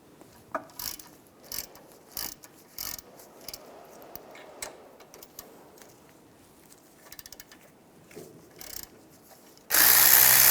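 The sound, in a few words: ratchet with 7mm hex socket removing brake caliper slide pins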